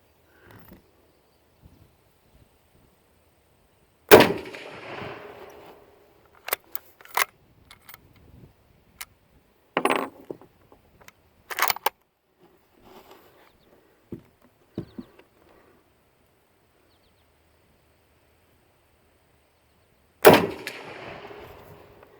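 A Remington .30-06 rifle fires two sharp, loud shots about sixteen seconds apart outdoors, with quieter clicks and clatters of handling and bolt work between them and insects faint in the background.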